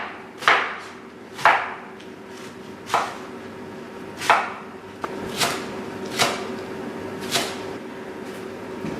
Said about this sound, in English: now I'm going to slice it finely